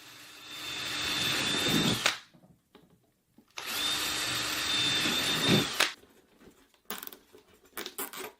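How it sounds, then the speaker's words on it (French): A power drill bores holes into a plastic Nerf blaster, two long loud whirring runs separated by a pause, then short choppy bursts near the end. "C'est ce que nous allons faire, en perçant ces trous."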